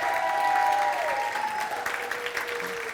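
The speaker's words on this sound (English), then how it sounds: "give a round of applause" Audience applause at a business summit talk on branding, broad steady clapping that fills the room and holds strong throughout, with a sustained tone sounding underneath.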